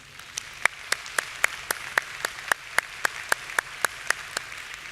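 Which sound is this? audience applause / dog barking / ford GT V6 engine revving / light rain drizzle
audience applause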